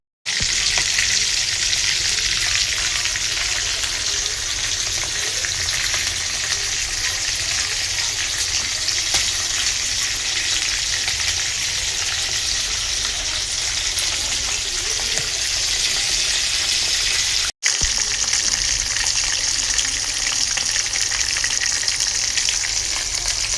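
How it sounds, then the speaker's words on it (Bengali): Meat frying in a pan for a roast dish, a steady close hiss and sizzle that holds loud and even throughout, with a brief break near the end and no talking. "এটা আমি এখন মাংসগুলি দিয়ে দিচ্ছি।"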